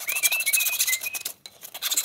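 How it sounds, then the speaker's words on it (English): Sandpaper rubbing back and forth on PVC pipe to deburr it, quick close raspy strokes with a brief pause near the end. "I'm gonna go ahead and sandpaper and deburr this"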